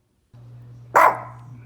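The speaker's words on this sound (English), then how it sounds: "She doesn't bark back too much." A single sharp dog bark rings out close and loud over a steady low electrical hum, then trails off quickly into the hum.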